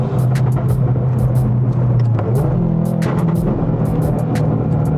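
A 2022 Subaru WRX with a custom header-back exhaust and unequal length header burbles with a steady, rumbling engine note, close and loud, with sharp pops and crackles scattered through it.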